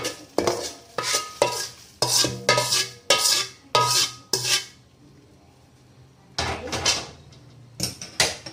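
Tempering being poured into roasted thin poha chivda and stirred: repeated rhythmic scraping and tossing strokes of a spoon in a pan, close and crisp, pausing briefly before resuming.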